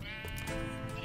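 A sheep bleats in a Mother Goose Club children's video game, one sustained, wavering bleat lasting about a second, close and fairly loud.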